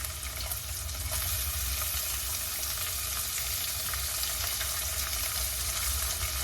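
Onion, tomato and green chili stir-frying in a pan for upma, a dense continuous sizzle with scraping stirs, close and steady throughout.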